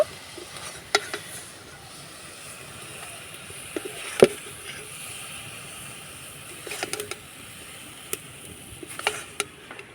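A cauliflower filling for pitha is stirred in a pan, with a soft steady hiss broken by a few sharp scraping clicks of the spoon, fairly quiet and with no voices.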